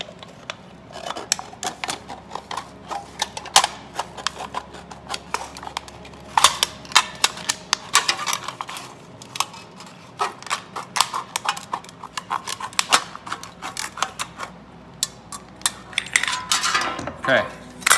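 Aluminum drink cans being cut apart for a DIY alcohol stove, a dense stream of sharp metallic snips, clicks and crinkles scattered irregularly throughout, close and fairly loud with no talking.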